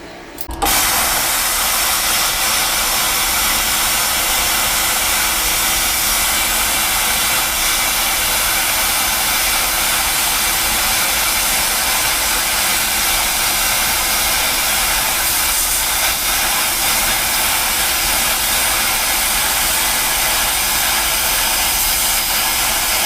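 Plasma cutter slicing through 1/4 inch steel plate on a 55 amp dual-voltage IGBT inverter machine, a loud steady roaring hiss that starts abruptly and runs unbroken to the end, with no talking.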